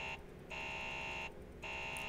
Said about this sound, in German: weil jetzt gerade der Alarm nicht mehr ausgeht